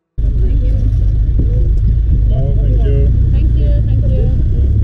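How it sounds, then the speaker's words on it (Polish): A taxi idling with its engine left running on a street in Hurghada, Egypt, giving a steady low rumble throughout, with people talking over it. "no to stoją z włączonym silnikiem."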